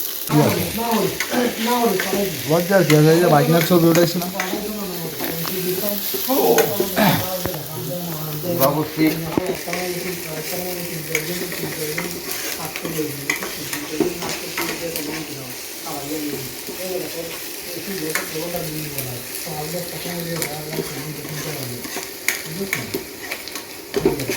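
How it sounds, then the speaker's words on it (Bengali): Food fries in sunflower oil in a wok in Kyrgyzstan, with a loud, close sizzle and stirring scrapes running throughout while people talk over it. "এই যে তেল দেওয়া হইতেছে ভাই কড়াইতে"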